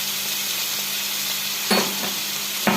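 Diced elephant foot yam sizzles steadily in a pan for a Kerala-style thoran, with a constant hiss of frying broken by a couple of short scraping stirs near the end.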